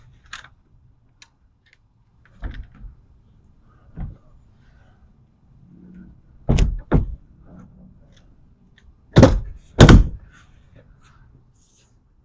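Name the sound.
opening a BAKflip MX4 truck bed cover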